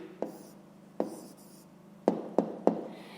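Pen strokes on paper while writing out a fraction answer to a fifth-grade math exercise: five short scratchy bursts, near and fairly quiet, with brief pauses between them.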